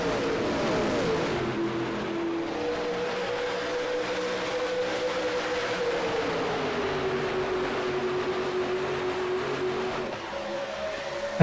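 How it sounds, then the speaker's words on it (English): Stock cars accelerating away from the green flag at the Daytona season opener in a 2008-style racing game, a dense, continuous engine roar with rising and falling pitch that sweeps through gear changes, loud and steady throughout. "As through the gears they go, getting up the speed"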